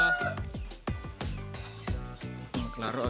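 Chickens of Dominant CZ parent stock clucking on a Cebu farm, with short repeated calls over people talking nearby.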